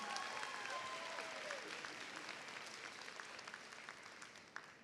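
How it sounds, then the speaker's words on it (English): High school graduates at a Rhodes College & Career Academy graduation ceremony applaud their families and staff, a soft, distant wash of many hands clapping that slowly fades, with faint crowd murmur. "I want you to give your village a round of applause"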